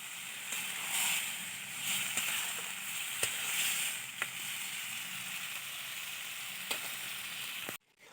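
Spice-marinated meat sizzles steadily in a hot pan, a soft continuous frying hiss with occasional faint clicks of stirring, ending abruptly.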